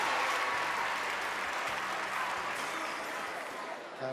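Crowd applauding gymnast Carlotta Ferlito at the Summer Universiade in Naples, a broad, continuous wash of clapping filling the arena, with a commentator's voice faintly underneath.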